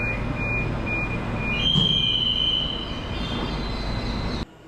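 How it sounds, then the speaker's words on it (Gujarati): A metro train pulls into a station with a continuous heavy rumble and high, sustained wheel squeals and whines, loud and near, before cutting off abruptly. "હવે નેક્સ્ટ મેટ્રો આવશે ને એમાં બેસી જાવ."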